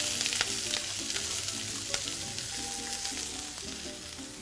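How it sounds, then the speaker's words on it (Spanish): Chopped onion frying in oil in a hot pan makes a soft, steady sizzle and crackle, with faint stirring sounds underneath. "Dejamos sofreír un poco más para posteriormente agregar el tomate"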